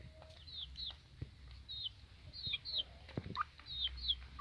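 Young chickens about three and a half months old cluck and peep in short, high, repeated calls, close by and fairly quiet, with soft background shuffling and a few knocks.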